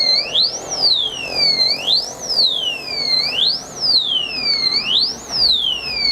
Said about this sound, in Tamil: இப்போ உங்கள் வண்டி யாராச்சும் மூவ் பண்ணால் ஃபஸ்ட் வாட்டி அலார்ட்டிங் சிக்னல் வரும், ஒரு 3 வாட்டி அடிக்கும்